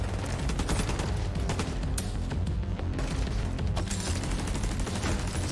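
Continuous heavy turret gunfire and battle noise fill a firefight in The Division 2, loud and unbroken throughout with little talk.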